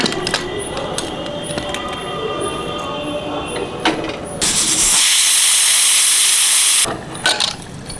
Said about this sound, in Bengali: প্রেসারে দিয়ে দিচ্ছি